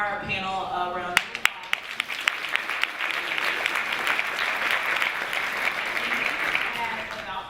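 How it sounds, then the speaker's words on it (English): An audience at a Black law students panel breaks into applause. A few sharp, separate claps at the start quickly build into a full, sustained round of dense clapping, with speech-like sound briefly audible at the outset. "So let's give our panel a round of applause."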